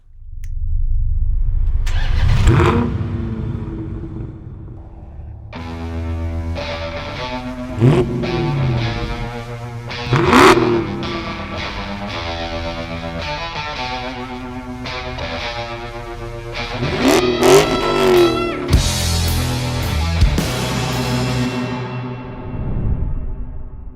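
A Dodge Challenger Scat Pack's engine starts and revs repeatedly, rising and falling in loud, close bursts with rumbling idle between them over about twenty seconds.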